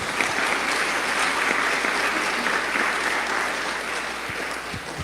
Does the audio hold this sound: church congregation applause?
yes